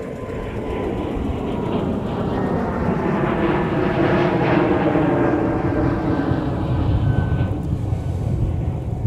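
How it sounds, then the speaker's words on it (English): An Airbus A220 takes off for Chicago O'Hare, a broad jet roar that swells toward the middle and then slowly fades, heard from a distance with some wind buffeting the microphone. "Flight 1306 off to Chicago O'Hare. A220."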